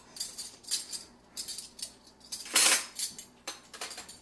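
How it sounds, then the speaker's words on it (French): Cutlery and dishes being unloaded from a household dishwasher, a series of sharp metallic clinks and clatters in irregular bursts, close by and fairly loud, with one louder crash of utensils partway through. "Défaire le lave-vaisselle."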